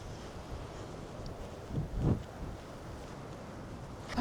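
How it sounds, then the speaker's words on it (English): Steady low rumble of wind buffeting the microphone, with a couple of stronger gusts swelling in the middle. "I think I'm going to call it there because it's very windy"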